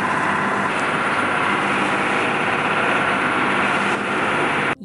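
A private taxi boat's engine drones steadily and loudly throughout off Italy's Amalfi Coast, with rushing water and wind noise mixed in, no voices.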